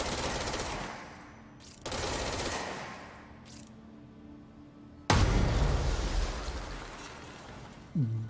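Rapid automatic gunfire from the Spin weapon in the video game Control, a dense continuous roar in long bursts with brief pauses and a heavy blast near the end.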